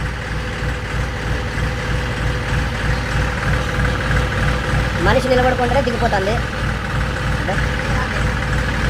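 Steady low idling of a Swaraj 735 FE tractor engine with a hydraulic lift fault, with someone speaking over it partway through.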